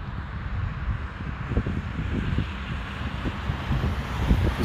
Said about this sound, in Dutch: Redelijk veel wind.